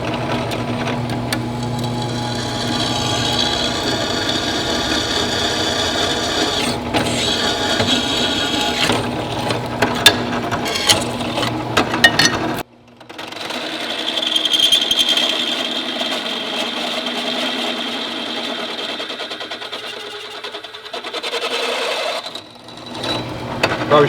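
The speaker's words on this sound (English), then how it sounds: "We're going to use a smaller drill bit to kind of give it a pilot hole." A power drill with a small bit bores a pilot hole in metal for a motorcycle sissy bar, giving a loud steady whine and grinding for about twelve seconds, stopping briefly, then running again for several more seconds.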